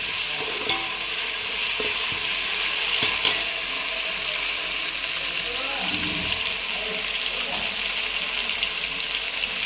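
Mint leaves frying in a pan for mint rice, a steady broad sizzle with soft stirring scrapes and a few light clinks, close and continuous throughout.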